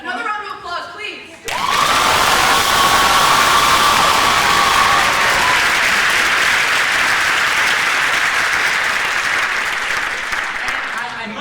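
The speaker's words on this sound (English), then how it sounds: "Another round of applause, please." Loud, sustained audience applause with some cheering at a cabaret show fills the room after a brief quieter moment, steady for about ten seconds before easing slightly.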